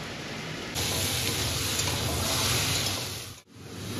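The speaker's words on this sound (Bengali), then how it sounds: "ভীষণ জোরে জোরে বৃষ্টি পড়ছে," Heavy rain pours down on a rainy day, a dense, loud, steady broadband rush of water that swells slightly after the first moment and runs alone without speech.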